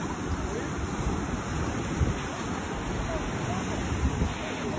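Ocean surf at the famous Arch, a rock arch on the open sea, rolls as a steady broadband wash with wind buffeting the microphone, continuous and fairly loud throughout.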